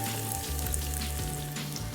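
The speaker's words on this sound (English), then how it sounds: "can you hear the sizzle? So we're going to lightly caramelize this guy." Onions sizzle steadily in a hot pan as they lightly caramelize for avocado toast, a continuous close, even frying hiss with no talking.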